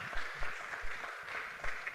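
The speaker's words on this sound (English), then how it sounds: "please give Mr. Ina a round of applause" Audience applause at the DataFest Africa 2022 conference as a speaker takes his seat, a moderate spread of clapping with a few louder claps standing out over two seconds.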